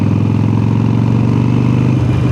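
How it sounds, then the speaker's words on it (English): Harley-Davidson Sportster 883 with an upgraded aftermarket exhaust idling close by, a steady deep low rumble with even pulsing throughout and no talk. "it takes away the high pitch notes of the exhaust and makes it a more deeper sound, a more deeper tone"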